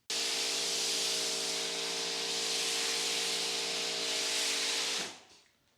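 A pressure washer with a foam cannon fitted with a 1.45 orifice sprays foam onto a panel, a loud steady hissing rush that runs for about five seconds and then cuts off abruptly.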